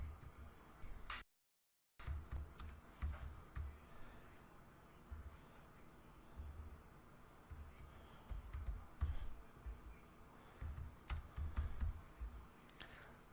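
Computer keyboard clattering as a Hadoop command is typed into a Windows command prompt, quiet irregular keystrokes and clicks close by, broken by a brief moment of silence near the start.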